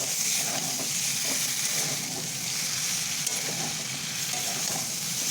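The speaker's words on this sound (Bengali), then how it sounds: "একটুখানি নাড়ানাড়ি করবো মশলাটা যাতে এখন এক জায়গায়" Ground spice paste for shukto frying and being stirred in a pan of oil, a continuous close sizzle with soft scraping and shuffling strokes running through it.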